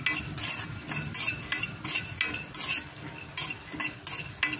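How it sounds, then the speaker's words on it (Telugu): Pumpkin seeds fry in a pan while a spatula stirs them constantly, producing close, rhythmic scraping and clinking over a light sizzle. "ఇప్పుడు గుమ్మడి ఇత్తనాలు ఫ్రై చేసుకుందాం."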